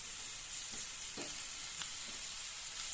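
Onions sautéing in a pan with powdered salt for a paneer capsicum stir fry, giving a steady soft sizzle with a few brief stirring scrapes, close and moderately quiet, no talking.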